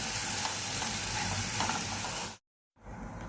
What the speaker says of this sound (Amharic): ካሮታችን በዚህ መልኩ ጥብስ ብሎልናል